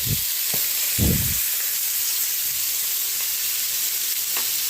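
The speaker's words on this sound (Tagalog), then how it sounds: "Lagyan na natin yung chicken." Chicken frying in a pan for chicken curry, a steady close sizzle and hiss throughout, with a few brief louder bursts of crackle near the start as pieces go in.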